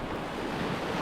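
Swift whitewater roars steadily through the entrance rapids of the Ashvegas run on a river, a dense continuous rushing wash heard close with no voices.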